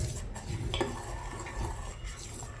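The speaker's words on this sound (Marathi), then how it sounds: "हे सारखं ढवळत राहायचं आहे, हे खाली लागू द्यायचं नाही." Milk thickened with custard powder and sugar is stirred in a pot, a spoon scraping and clinking against the metal in a continuous close rhythm under a low hiss.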